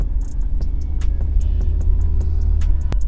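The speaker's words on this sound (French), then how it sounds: "je suis en train de rouler dans une voiture qui a été achetée" A cheap 1996 car bought for 300 euros with its engine running as it drives off, heard from inside as a low steady rumble broken by sharp ticks and clicks.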